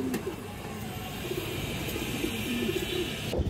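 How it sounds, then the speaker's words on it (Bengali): Silver pigeons coo softly in short repeated phrases against a faint background hum, with a sharper click near the end. "মাশাআল্লাহ দেখার মতো কবুতর দর্শক"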